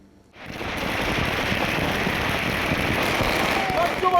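Dense, continuous crackling bursts of firecrackers, loud and close, going off in a rapid unbroken stream after a brief quiet start, during a street celebration in Amravati.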